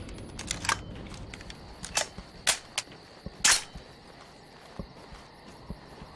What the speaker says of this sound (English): I'm gonna shoot up the lights and make an approach